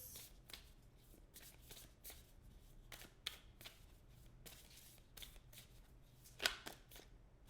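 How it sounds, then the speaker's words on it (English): A spellcasting oracle deck is shuffled with repeated crisp riffling bursts, followed by a sharper snap as a card is pulled, close and clear with no talking. "let me pull a card from this spellcasting deck"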